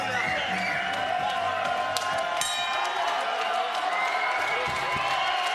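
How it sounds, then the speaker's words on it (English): A women's MMA fight crowd cheers and applauds in a steady, dense roar, with scattered claps and whoops running unbroken through the whole stretch. "This crowd really appreciating this fight."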